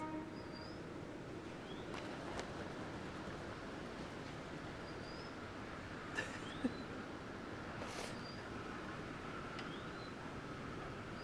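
Freight train rolling past a station, a continuous broad rumble of wagons on the rails with occasional squeals and clanks, birds chirping faintly over the steady noise.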